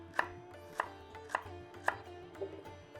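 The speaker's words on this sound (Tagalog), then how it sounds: "Ginger, I will cut into thin pieces." A knife chops ginger into thin pieces on a cutting board, four crisp evenly spaced knocks with a softer fifth near the end, close and clear over a quiet room.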